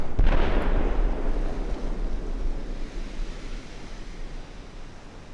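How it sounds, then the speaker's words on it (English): The battleship Vanguard fires its guns in Ultimate Admiral Dreadnoughts, a heavy booming salvo at the start that rolls into a long, deep rumbling decay. "I was hoping to see Vanguard firing away with a lot more guns than this."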